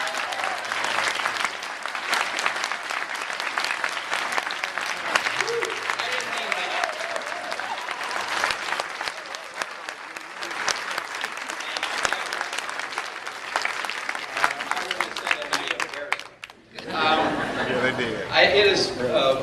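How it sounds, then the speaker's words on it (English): Sustained, loud applause from a crowd at a real estate rally, thick and even for most of the stretch before it cuts off and a voice begins speaking near the end. "you can give me some applause."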